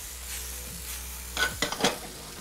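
Whole wheat spaghetti tossed in a frying pan gives faint soft sizzling and a few quick scraping, stirring clatters near the end, with no talking.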